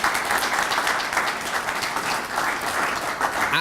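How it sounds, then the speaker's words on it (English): An audience claps steadily for Mark Sung at the grand opening of new computer labs, a dense, even wash of applause that holds at the same level throughout. "Would you give him a round of applause"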